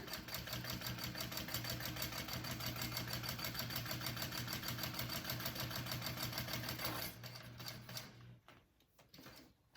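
A sewing machine runs steadily, stitching a backpack seam at a fast, even rhythm for about seven seconds, then stops, leaving a few faint clicks and handling noises.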